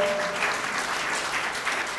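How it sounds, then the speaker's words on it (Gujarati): Audience clapping at a book launch ceremony, a dense, even burst of applause filling the room from start to finish. "હેમાબેન માટે ખૂબ તાળીઓ એકવાર"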